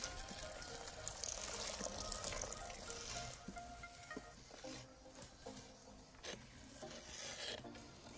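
Lime-sulfur mixture being stirred as water is gradually added, giving soft rasping scrapes and gentle sloshing, faint and close, with irregular strokes throughout and no speech.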